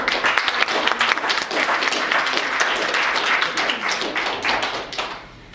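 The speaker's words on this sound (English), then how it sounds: "Let's give both these teams a round of applause." Spectators at a school mock trial competition clap for the competing teams in a dense burst of applause that holds steady, then thins and fades away at the end.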